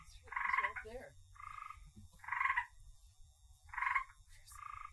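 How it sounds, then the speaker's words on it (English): A tree frog calls in repeated short rasping bursts, about five croaks spaced roughly a second apart, moderately close over a low rumbling background. "there was a tree frog, and it was making its sounds"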